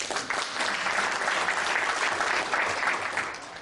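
Audience applause fills a fundraising evening for a Jersey City council candidate, a steady dense wash of clapping from a crowd lasting several seconds with no talk over it.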